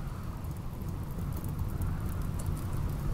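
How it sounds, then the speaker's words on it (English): Rain falls in the video game Rimworld, a steady broadband wash of downpour with a low rumble beneath, constant and fairly loud without talk. "It's raining, so the fire will go out"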